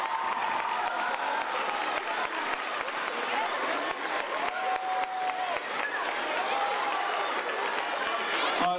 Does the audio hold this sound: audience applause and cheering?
yes